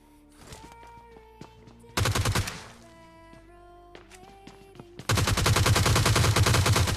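Video-game gunfire in PUBG Lite, loud rapid automatic bursts at about two seconds and again from five seconds to the end, with quieter ambient game sounds and tonal effects between the volleys.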